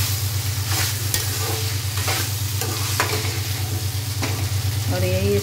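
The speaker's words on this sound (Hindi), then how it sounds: "मैंने जो चिकन लिया था फ्राई करके रखा था उसे ऐड कर दे रही हूँ, और इसे सब मिक्स करूँगी एक साथ में" Fried chicken is stirred into a pan of Chinese chicken fried rice, giving a loud, continuous sizzle with scraping strokes over a steady low hum from the stove.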